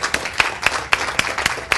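Audience applause at a business seminar: a quick run of crisp, evenly spaced hand claps, close and moderately loud, with no voices over it.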